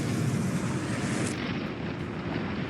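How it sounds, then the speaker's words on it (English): A huge explosion in the video game Fallout 4 fills the whole clip with a loud, sustained roar and deep rumble. The brightest hiss drops away about halfway through. "let's see if I can survive the explosion"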